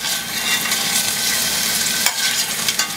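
Chicken for Mexican chicken a la king (pollo en crema) sizzles loudly in a pan, with crackling bursts and scraping as pieces are lifted out.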